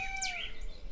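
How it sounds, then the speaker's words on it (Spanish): Small birds chirp outdoors on a rural ranch in San Luis, one clear whistled call and a quick sweeping tweet sounding close and bright over a quiet background with no talking. "Y hay un montón de pajaritos."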